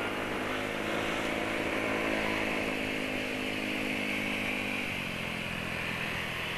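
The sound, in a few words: Yamaha Nouvo motorcycle with loud racing exhaust passing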